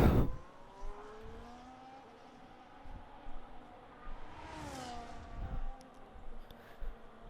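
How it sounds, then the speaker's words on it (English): Several race cars on outlaps in a racing video game at Bahrain, engines droning and rising in pitch as they pass by, fairly faint under a steady background hum. "Multiple cars on their outlaps again."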